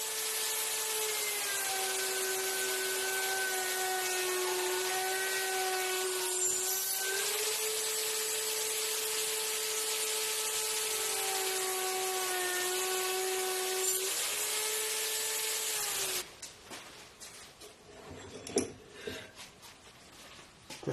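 Homemade tenon-cutting machine spinning through wood stock, a steady high whining cutter tone with shifting pitch as the cut loads, ending abruptly into quieter clattering and knocks.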